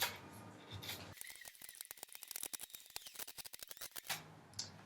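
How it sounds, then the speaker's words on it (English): Corrugated cardboard torn apart by hand, making a close, steady run of fast crackling tears for a few seconds, between quieter rustling at the start and end. "So I'm just going to keep tearing."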